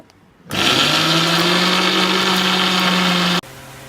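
A mixer grinder grinding masala with onions and water whirs loudly and steadily for about three seconds with a droning motor hum, then cuts off abruptly.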